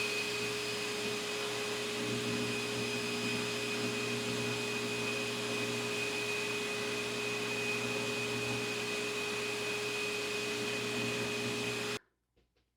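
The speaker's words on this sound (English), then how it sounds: "All right, let's put it on the buffer." Steady, loud whirring drone of a buffing machine polishing a briar tobacco pipe bowl, constant for about twelve seconds before cutting off abruptly into near silence.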